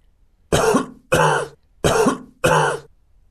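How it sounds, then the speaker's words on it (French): Four harsh, evenly spaced coughs, close and loud, each a short burst with brief silence between. "le docteur se met à tousser, puis à recracher toute l'eau qu'il a avalée"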